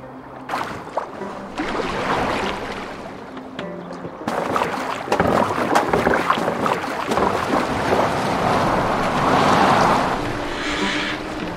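A Viking longboat is steered across open water in Assassin's Creed Valhalla, with a continuous rushing wash of water and wind, rising louder midway, alongside faint in-game ambience.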